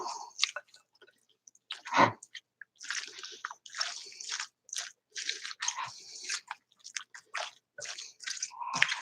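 Someone chews food up close while tasting it, with moist, squishy bites and crunches in an irregular rhythm, separated by short quiet gaps.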